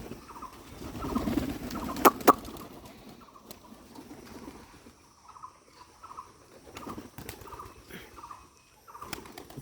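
Hungry pigeons gather to feed, cooing in repeated low, throaty phrases, with a couple of sharp clapping wing beats early on. No one speaks.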